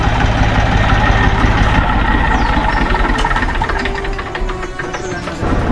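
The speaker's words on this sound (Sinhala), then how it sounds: "ඔන්න අද අපි යන අපේ ට්‍රැක්ටර් ටගය ඇවිල්ලා තියෙන්නේ" A tractor engine idles close by in a steady, continuous low rumble that stays loud throughout, with no voices over it.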